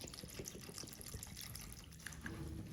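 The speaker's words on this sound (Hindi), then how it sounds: "अभी मैं इसमें पानी थोड़ा सा और ऐड करूँगी।" Water being poured into a chutney in a home kitchen, a steady trickling splash running continuously at close range with no talk over it.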